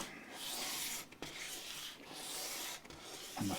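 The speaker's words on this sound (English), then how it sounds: "sanding block like this is your dear friend" A sanding block rubs back and forth across the body of a Gibson ES-335 guitar, giving steady, close abrasive scraping strokes with brief pauses between passes.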